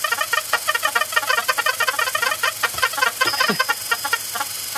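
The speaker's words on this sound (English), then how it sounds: "So this is a video of I think the Rhythmicon." Leon Theremin's 1930s Rhythmicon, an early electronic rhythm instrument, plays dense overlapping pitched pulses in fast repeating patterns, with a chirpy, bird-like chatter that stays steady and loud throughout.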